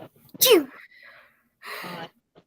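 A single sharp sneeze bursts out near the start, loud and close, followed by a short murmured exchange and another brief vocal sound; people speak softly around it.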